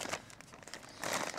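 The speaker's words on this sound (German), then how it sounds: "dann haben wir hier, was schon leider so ein bisschen verkrumpelt ist, diese Abdeckfolie" Protective cover film from a Tesla Model S roof rack kit crinkles and crackles up close in a short burst, with no talk.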